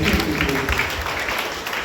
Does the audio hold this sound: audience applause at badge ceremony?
yes